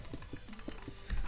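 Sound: clicking and typing on a computer keyboard

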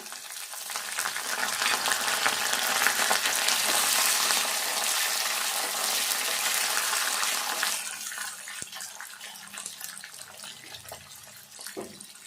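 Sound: onions frying in oil for ivy gourd curry

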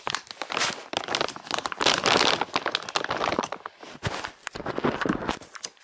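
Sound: opening a plastic gift bag

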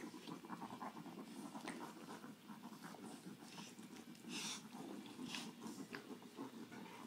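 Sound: congested dog breathing

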